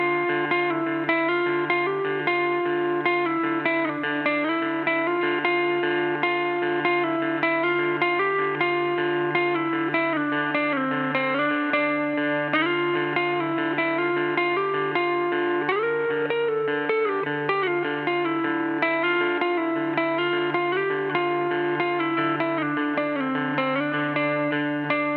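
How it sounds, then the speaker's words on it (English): A 2019 Gibson Explorer electric guitar in Antique Natural plays on its bridge pickup with heavy distortion, holding sustained, chord-rich tones that stay loud and steady throughout, with no talking. "Bridge distortion"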